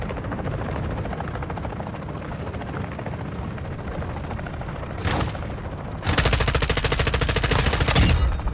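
Call of Duty DMZ gunfire: sustained automatic weapon bursts rattle loudly over a constant helicopter rotor drone, with a brief volley midway and a dense, continuous stretch of firing near the end.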